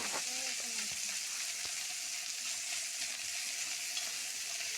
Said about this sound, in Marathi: तेलामध्ये चांगला परतून घ्यायचा आहे